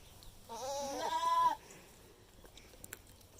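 A calf being readied for a show halter bleats once, a single drawn-out bawl of about a second, close and fairly loud, followed by quiet outdoor background with faint ticks.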